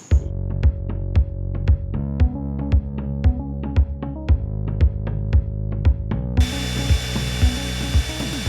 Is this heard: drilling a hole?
yes